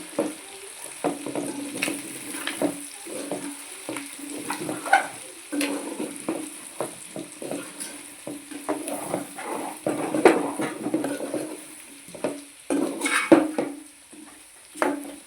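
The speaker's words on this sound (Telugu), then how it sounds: "కొద్దిగా కారం వేసుకున్న తర్వాత ఇలా కలుపుకోవాలన్నమాట." Country chicken curry with chili powder is stirred in a pan, with irregular spoon scrapes and clinks over a soft sizzle, close and fairly quiet.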